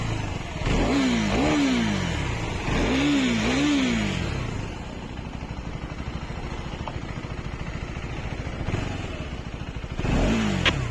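A KTM Adventure 390 motorcycle engine revs up twice in quick rising-and-falling surges, settles into a steady, close idle, then rises again briefly at the end.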